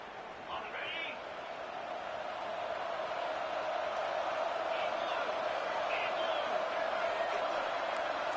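A stadium crowd in the video game NCAA Football 26 roars as a steady, swelling wash of cheering that grows louder, while a commentator talks over it.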